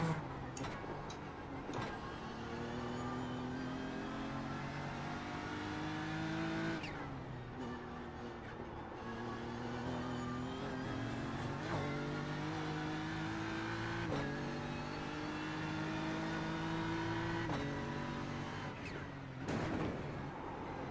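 Racing car engine in a video game, a continuous droning hum with shifting tones as the car changes gear, steady in level throughout with sharp ticking clicks and no talk.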